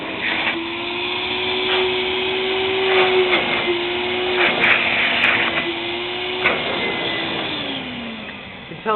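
A Silver King vacuum cleaner with a bypass-cooled motor runs steadily and loudly throughout, holding a continuous motor whine with slight pitch shifts and no talk.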